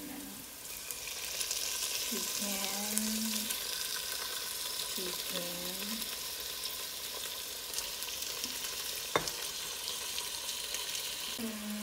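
Chicken sautéing with browned garlic and onion in olive oil for pancit canton, a continuous bright sizzle with a few spatula scrapes and one sharp knock, steady and close, with no speech.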